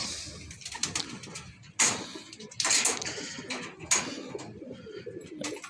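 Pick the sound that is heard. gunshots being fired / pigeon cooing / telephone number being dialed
pigeon cooing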